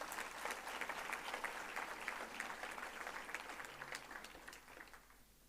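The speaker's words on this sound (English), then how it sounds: "I think we should all give them a round of applause." Audience at a university autumn graduation ceremony on a George campus claps steadily, a broad wash of many hands heard from a distance that gradually tapers off near the end.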